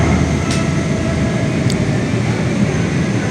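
Silver Line Metro train riding toward Dulles Airport, a steady loud rumble of wheels on rail with faint squeals, heard continuously from inside the car with no talking.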